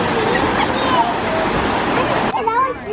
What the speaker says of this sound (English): There's like a waterfall.